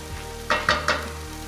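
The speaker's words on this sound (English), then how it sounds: "we're going to take it over and saute our onions and garlic" Onions and garlic sauteing in a pan for a vegan penne sauce, with three short stirring scrapes over a low steady sizzle.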